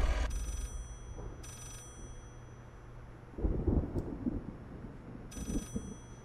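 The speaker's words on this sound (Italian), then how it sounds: "forse devo rispondere al telefono qua" An old telephone rings in the horror game Layers of Fear, three spaced bursts of bell ringing with thunder rumbling and rain in the background, no talking.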